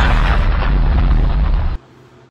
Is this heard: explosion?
yes